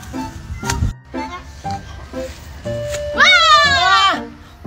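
A cat gives a drawn-out, wavering meow near the end, after several short thumps and bits of background noise with a voice nearby.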